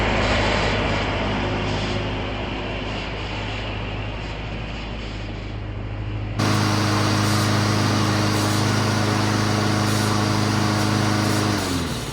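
A lawn mower engine drones steadily throughout, then abruptly grows louder and fuller halfway through, continuing at a constant, buzzing pitch.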